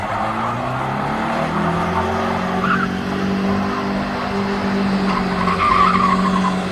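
A Crown Victoria's tires screech in a long, sustained skid with the engine roaring underneath, loud and close throughout.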